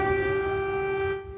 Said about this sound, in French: À Kiev mardi, les sirènes ont de nouveau retenti